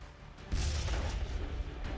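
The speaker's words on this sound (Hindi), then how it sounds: "बहुत बड़ा ब्लास्ट हुआ, गाड़ियाँ तबाह हो गई" A bomb blast in Karachi, Pakistan, that wrecked vehicles: a sudden deep boom strikes about half a second in and rolls on as a heavy, sustained low rumble, with no voices.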